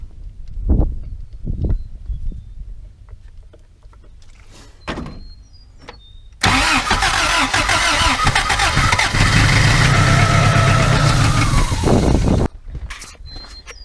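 Trail rig engine starting after fuel is added: a few clunks and knocks, then the engine cranks and catches into a loud steady run for several seconds before cutting off.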